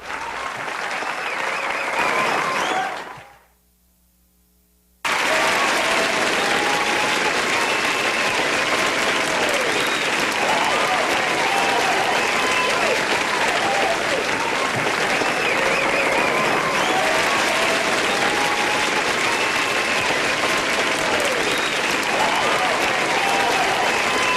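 Loud crowd applause plays as a sound effect during a live stream vote, sustained clapping that cuts out briefly to silence near the start, then resumes strong and continuous.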